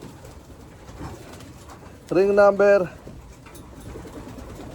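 A pigeon coos once, a short rolling burst of harmonic cooing close by, with quiet talk and background noise before and after.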